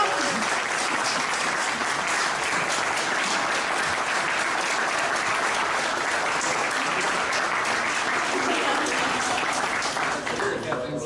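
A hall audience at an award ceremony for a furniture fair's top prizes claps loudly and steadily, a dense, even wash of applause that holds without a break.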